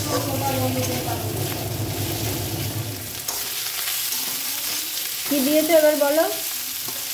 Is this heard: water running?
no